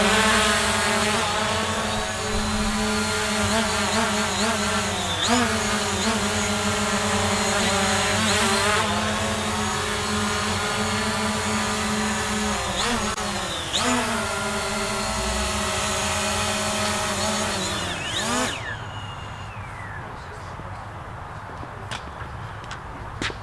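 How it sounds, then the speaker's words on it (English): A Fimi X8 SE or Hubsan Zino camera drone hovers close by for a hand catch, its propellers giving a loud, steady harmonic whine that shifts pitch as it adjusts, then cuts out abruptly near the end, leaving quiet background. "One of the things I love about this drone is how easy it is to hand catch"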